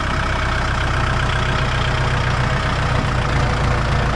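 A Kubota L47DT farm tractor from 2011, with 2,426 hours on it, idles steadily at close range, its engine giving a continuous low rumble with no break and no voices.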